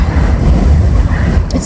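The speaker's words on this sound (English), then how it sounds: "it's so windy here." Loud, rumbling wind buffets the microphone continuously, a dense low roar with gusty fluctuations and no other clear sounds.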